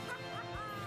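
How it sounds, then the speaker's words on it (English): A dog barks and yips briefly in the video game Daggerhood, a short sharp burst close up over busy game audio, with a voice talking over it. "And that is a dog, just for the record."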